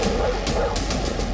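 A pitbull attacking a 10-year-old boy in a park in Ghaziabad, with several short, harsh barks in quick succession buried in loud, dense noise.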